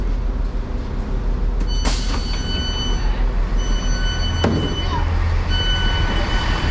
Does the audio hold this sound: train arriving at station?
yes